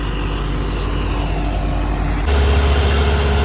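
A geotechnical drill rig pushes an auger into a 40-foot borehole, its heavy diesel engine droning steadily and loudly up close, stepping up to a deeper, stronger roar partway through.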